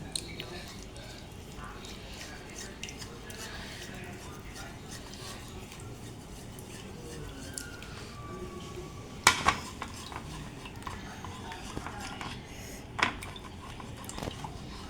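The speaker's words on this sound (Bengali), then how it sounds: "এখন আমি কর্নফ্লাওয়ার গুলে নেব।" A spoon stirs cornflour into water in a bowl, quiet scraping and swishing with a few sharper clinks against the bowl near the middle and end.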